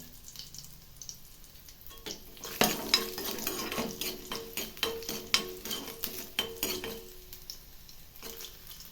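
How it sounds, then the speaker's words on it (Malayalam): Garlic, shallots and fenugreek seeds sauté in hot oil for a Kerala moru curry. A quiet sizzle builds into rhythmic, close scraping and clinking of a spoon against the pan, then eases off again. "വെളുത്തുള്ളിയും ചെറുള്ളിയും ഉലുവയും നമ്മൾ വഴറ്റിയെടുത്ത്"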